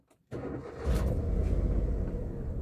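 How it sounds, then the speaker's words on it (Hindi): A car engine cranks and starts after a moment of silence, then settles into a steady, loud, close idle rumble that holds to the end. "तो देखो स्टार्ट करी कार"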